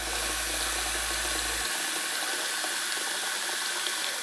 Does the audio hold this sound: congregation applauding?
no